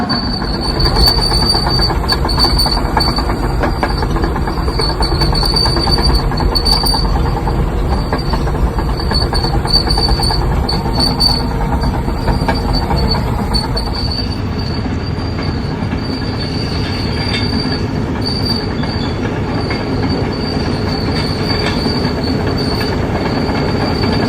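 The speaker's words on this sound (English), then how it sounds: "make sure the Dozer will run before we take it off to a logging job" A bulldozer engine after a motor swap, running steadily and loud nearby, with constant mechanical rumble, clanking tracks and high squealing, no talking.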